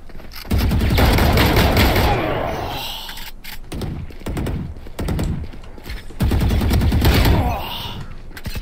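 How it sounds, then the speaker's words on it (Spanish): Rapid bursts of automatic gunfire in Valorant deathmatch, loud and close, in two long volleys separated by a few scattered shots. "no me gusta el disparo de a esta arma"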